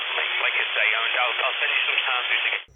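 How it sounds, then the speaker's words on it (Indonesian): A tinny, narrow-band radio voice crackles through a small speaker as a creepy creature-style radio sound effect, a steady burst of filtered chatter lasting a few seconds before cutting off abruptly. "seperti bisa menirukan suara radio"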